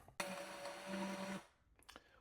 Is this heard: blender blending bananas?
yes